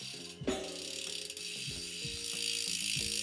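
A DT Swiss bike hub on a three-pawl freewheel system clicks in rapid, even ratchet ticks as the wheel coasts, close-up and clear with no talking.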